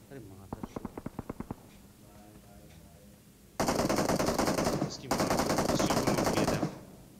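Video game gunfire in PUBG at Pochinki: a quick rapid burst of about eight shots, then two long, loud automatic volleys separated by a brief pause, with a voice heard under the action.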